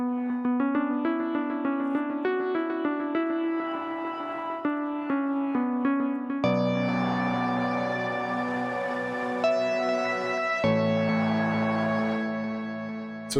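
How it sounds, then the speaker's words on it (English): Mosaic Keys sampled keyboard instrument from Heaviosity: a plucky single-note melody first, then fuller sustained chords join in, bright and clear, played alone without talk. "the second one is Mosaic Keys from Heaviosity,"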